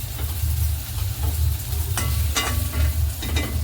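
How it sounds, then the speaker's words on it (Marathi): Stuffed bitter gourd fries in a pan: a loud, close sizzle sits over a heavy low rumble, with a few crackles and stirring knocks and no voices. "आपले कारले किती मस्त कमी असे फ्राय झालेले ते बघा"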